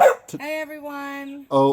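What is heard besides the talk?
dog barking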